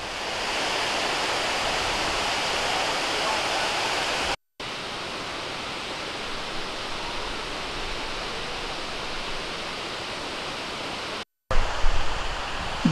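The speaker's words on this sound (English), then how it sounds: "This waterfall is continuously fed by meltwater from the Langjökull glacier 40 kilometers into the" Gullfoss waterfall in Iceland, fed by meltwater from the Langjökull glacier, roars as a steady, dense broadband rush at close range, constant throughout with two brief cuts and a gustier burst near the end.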